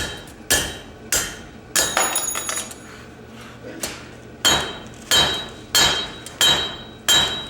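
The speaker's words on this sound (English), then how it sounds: "I'm going to turn it over and drift from this side" A forging hammer strikes a mild steel drift over an anvil in a blacksmithing demonstration, giving sharp ringing metallic blows, roughly ten of them, in a steady irregular rhythm, loud and close.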